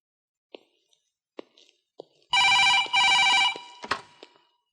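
An old-style telephone bell rings in two loud, close bursts inside a house in a Malayalam comedy film, with a few soft clicks and knocks before and after.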